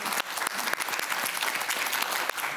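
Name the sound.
studio audience applause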